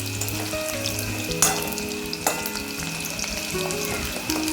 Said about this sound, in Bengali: এভাবেই সবকটা চিকেন মানে যেটুকু আছে এভাবে ফ্রাই করে নেব